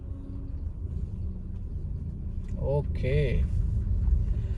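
A Maruti Suzuki Ertiga VXI pulls away in first gear with a steady low engine rumble that swells slightly as it moves off, while a voice speaks briefly over it.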